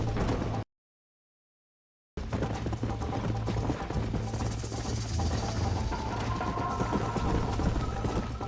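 Horse hooves clip-clopping in the Western game Red Dead Redemption, a steady galloping rhythm with a low hum underneath, interrupted by a brief silent gap near the start, then continuing steadily to the end.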